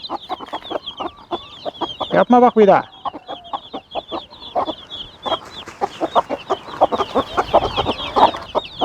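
Broody Gurk hens cluck in a dense, rapid series of sharp close calls, with one louder squawking outburst early on, while a person speaks over them.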